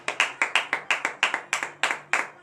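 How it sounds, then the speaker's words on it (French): Church congregation at a morning prayer service clapping in a steady rhythmic beat, regular hand claps close by with no cheering clearly standing out. "Veuillez vous lever sur vos pieds en donnant de vives acclamations à notre Seigneur Jésus ce matin."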